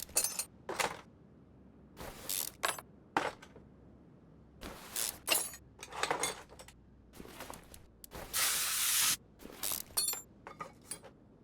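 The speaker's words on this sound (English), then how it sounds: "Where will we be without WD-40?" In Car Mechanic Simulator 2021, metallic clinks and clatters of parts are followed by a sustained burst of hissing WD-40 spray lasting about a second, then more scattered clinks.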